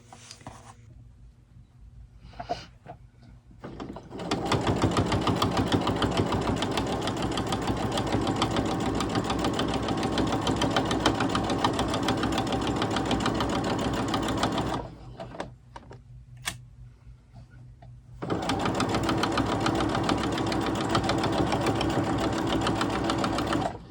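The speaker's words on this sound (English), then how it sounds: "I'll go to the sewing machine and sew it." A sewing machine stitches fabric for a doll blanket in long, fast, rhythmic bursts, pausing briefly in the middle before starting again, close and steady.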